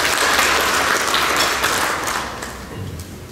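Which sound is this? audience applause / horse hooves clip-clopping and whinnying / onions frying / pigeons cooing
audience applause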